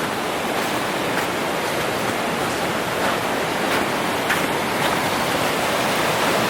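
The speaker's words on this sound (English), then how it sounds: "The falls are just beyond here." A waterfall in the Niagara Falls area roars as a dense, constant rush of water, loud and unbroken throughout with no voices.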